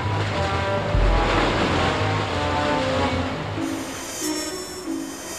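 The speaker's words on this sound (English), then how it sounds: "the sound of the waves crashing against the rocks" Waves crash and wash against rocks near a lighthouse, the surging roar swelling and receding, with steady wind blowing over the water.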